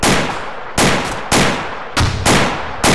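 Gunfire rings out in a military video game, five loud, sharp reports in uneven succession over about three seconds, each followed by a brief echoing decay, with no talk.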